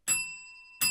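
A bell is rung to mark each donation milestone during a fundraising telethon: two bright, ringing strikes, the first decaying with a long sustained tone before the second hits.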